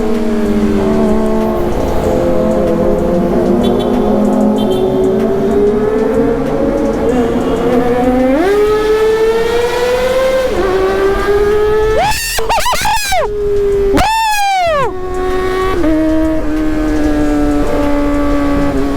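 A pair of Kawasaki ZX-25RR motorcycles on the road, their high-pitched four-cylinder engines droning loudly and continuously, revs climbing in steps with sharp rev blips and quick throttle snaps near the end.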